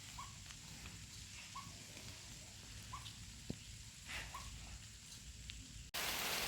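Rain falls outdoors where rose cuttings are being planted, a faint, steady hiss of patter with scattered drops, ending in a sudden loud burst of noise.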